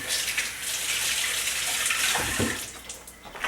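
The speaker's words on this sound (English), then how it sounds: "gotta wash my hands again" Tap water running steadily into a sink as hands are washed in a kitchen, a close, continuous splashing with a brief heavier gush near the end.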